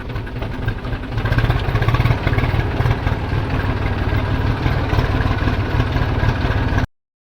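A tractor engine idles steadily on a farm track after rain, a loud, close, low throbbing rumble that holds evenly for about seven seconds before cutting off abruptly.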